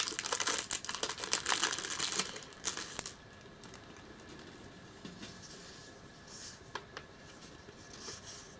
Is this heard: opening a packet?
yes